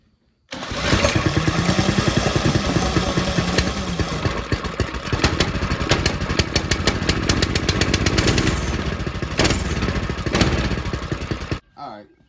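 A small mini bike engine, a CT-200, kicks into life abruptly when started with a drill with the choke on, running loud and close, sputtering and revving unevenly before cutting off near the end.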